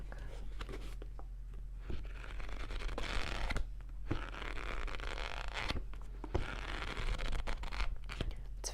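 Soft, scratchy rasping of book pages being rubbed in repeated strokes, close and quiet, sounding much like a zipper being drawn back and forth.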